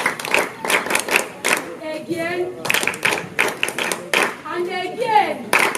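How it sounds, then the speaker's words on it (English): Children clap in short bursts of several quick claps, alternating with an adult voice talking and a voice in between, close and fairly loud in a classroom-like setting. "Clap for yourselves."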